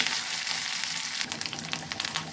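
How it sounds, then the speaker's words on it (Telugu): Curry leaf tempering (talimpu) sizzles and crackles in a hot pan for a greens dal, a loud continuous fry that turns into sharper popping bursts partway through. "లాస్ట్లో తాలింపు వేగిపోయింది"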